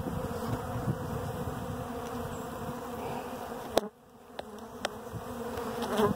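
Dense, steady buzzing of many robber bees swarming close around a hive in a bee yard, with a few sharp ticks and a brief dip before the hum swells again.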